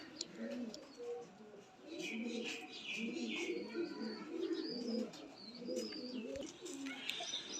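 A male pigeon coos repeatedly up close in soft, throaty rolling phrases, while someone speaks over it and faint chirps sound in the background.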